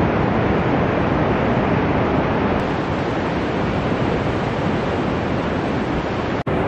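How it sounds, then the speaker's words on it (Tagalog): Ocean surf rolling onto a beach at Lingayen, Pangasinan, a loud, continuous broadband wash of breaking waves with steady roar and wind, no distinct pauses, heard alone without voices. "Pero parang nanghihila yung alon eh"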